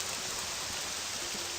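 Steady rain falling in the open world of the video game Morrowind, a dense, even hiss that fills the whole stretch without a break, moderately loud and with no voices over it.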